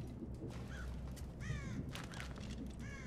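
Crow cawing in the stealth video game Thief, several harsh caws at mid distance over a steady low ambient rumble, with gaps between calls.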